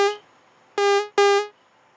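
Three short, bright trap lead notes from Ableton's Analog synth, each a buzzy harmonic stab with a quick fade, spaced with silence between, loud and alone.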